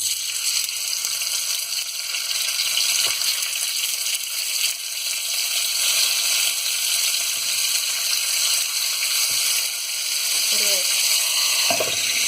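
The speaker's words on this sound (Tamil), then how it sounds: "இந்த ஃபிஷ்ஷை ஒன்று ஒன்றா போட்டுக்கலாம்" Marinated fish pieces fry in hot oil in a pan, a loud, steady sizzle that runs throughout, with a couple of faint knocks as pieces go in and no talking.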